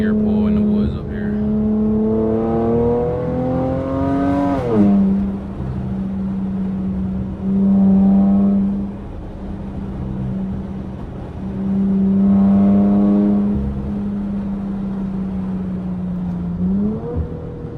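A Chrysler 300 engine revs in a first gear pull on a wooded road, its drone rising in pitch, dropping, then climbing again through repeated pulls, loud and close, with no talking.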